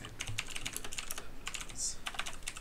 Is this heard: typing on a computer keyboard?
yes